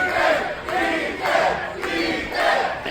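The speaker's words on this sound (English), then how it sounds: "listen to the crowd here at Badger State Brewing" A crowd at a wrestling match in a brewery cheers and roars in rising and falling waves, loud and continuous without pause.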